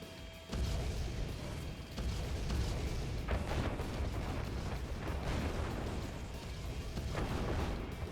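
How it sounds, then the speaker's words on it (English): French cannons in a real-time strategy match fire in heavy, overlapping booms over a continuous rumble of battle, loud and sustained with no voices. "Look at the amount of French cannons, boys."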